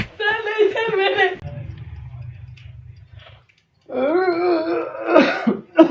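Throat clearing and coughing from a man in a barber shop, with a low rasping stretch between bursts of nearby talk.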